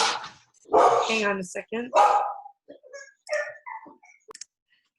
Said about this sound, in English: my dogs are being absolutely crazy tonight